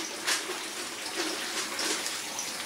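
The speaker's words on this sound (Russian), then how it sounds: "Намачиваем под водой." Tap water running steadily and splashing in a kitchen while bread dough made with natural sourdough starter is wetted underneath, a continuous hissing flow with small splashy bursts and no talking.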